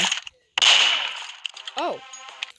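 A single sharp gunshot fires in the video game Murder Mystery 2 after a short silence, with a long decaying tail and a few clicky game sounds and a brief rising tone after it.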